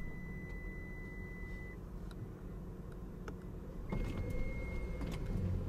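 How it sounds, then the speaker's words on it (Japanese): Right power sliding door on a 2024 Toyota Vellfire operating, a quiet electric motor hum under a steady chime tone, then a louder motor drone with a second tone as the door moves. "右側のパワースライドドアの開閉スイッチ"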